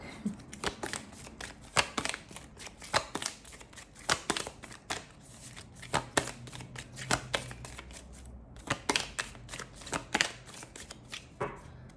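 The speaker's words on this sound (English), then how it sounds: "I'm splitting the deck." A deck of tarot cards split and shuffled by hand, a long sequence of crisp riffling and snapping card sounds, close up, with brief pauses between bursts.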